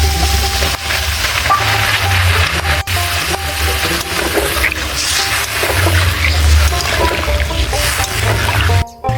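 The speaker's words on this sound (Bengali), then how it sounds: "এবার পরিমাণ মতো জল দিয়ে দেবো" Water is poured into a pot of fish curry with taro and potato. It runs in a steady, fairly loud splash over a low, continuous background hum, with faint clinks now and then.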